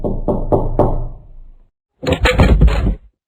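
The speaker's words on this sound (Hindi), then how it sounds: "कोई उसके घर का दरवाजा खटखटा रहा था।" Three firm knocks rap on a house door in quick succession, followed after a short pause by a louder burst of rapid, heavy pounding, close and with no talk.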